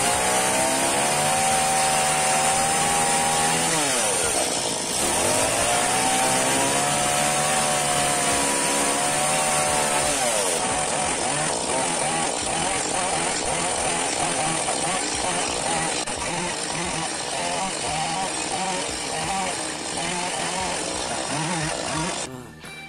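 A Stihl MS 180 chainsaw fitted with an extra air filter runs loud and steady, its engine revving up and dipping at about the five-second mark before settling into a continuous rough drone.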